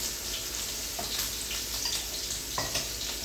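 Seasoned chicken breast, rubbed with spices for a blackened chicken sandwich, sizzles steadily in a hot pan, a dense continuous crackle with a few louder pops near the start and middle, with no talking.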